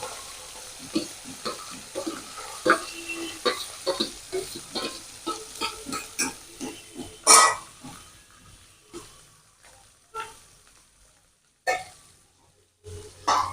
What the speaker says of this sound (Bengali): তেলের মধ্যে দিয়ে দিলাম মাছ